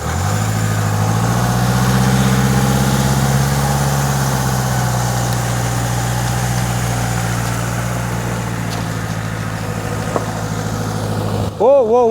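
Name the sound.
vehicle engine reversing boat trailer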